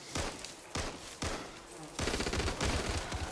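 Rapid gunfire in the Back 4 Blood video game as a player shoots at a red target, several loud bursts in quick succession building into continuous shooting near the end.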